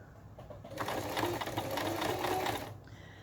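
A sewing machine stitches fabric pieces for a Japanese komebukuro rice bag, a close steady mechanical whirring run of about two seconds that starts and stops abruptly.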